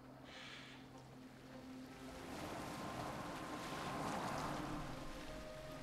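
Sailing boat in Assassin's Creed Valhalla moving across open water, with a steady wash of waves and wind rising slightly midway and staying constant throughout, no voices.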